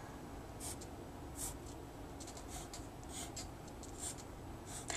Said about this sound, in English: I'm going to mark my positions in pencil.